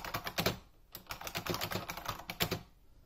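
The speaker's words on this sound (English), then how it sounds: "if I were to actually type something at a reasonable pace" Rapid, clacky keystrokes rattle in a steady, fast stream from a loud Unicomp Ultra Classic buckling-spring keyboard, close by and with no talking.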